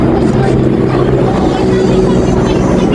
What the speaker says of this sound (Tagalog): may helicopter dito